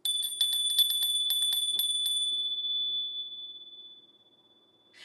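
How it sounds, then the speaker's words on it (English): A small bell rings in a rapid burst of bright metallic dings for about two seconds. One clear tone then lingers and fades slowly, and a soft ding returns at the very end. "I am going to ring the bell"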